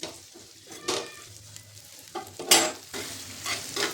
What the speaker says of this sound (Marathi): तेल घालायचे, भरपूर तेल घालायचं म्हणजे छान तळतो पण आणि लवकर भाजतो कांदा